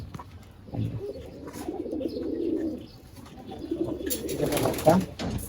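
Older breeding pigeons, some over eight years, cooing close by in a loft, low rolling coos rising and falling over several seconds, with a voice faintly in the background.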